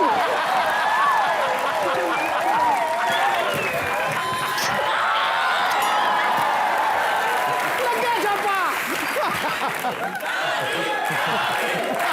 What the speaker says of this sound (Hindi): तालियां जीतू जी और तुषार के लिए।